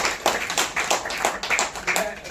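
An audience at a Hindi literary ceremony marking an institution's 35th foundation day claps in an uneven, fairly close rhythm of separate hand claps, with voices mixed in.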